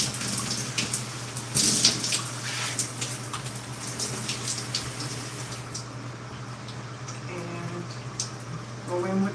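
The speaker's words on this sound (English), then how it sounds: "So rinse this portion of my hair." Tap water runs steadily while hair is rinsed, a continuous close splashing hiss with an underlying hum and occasional louder gushes, and a voice speaks briefly near the end.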